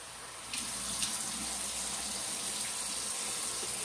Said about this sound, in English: And I'm gonna rinse it off.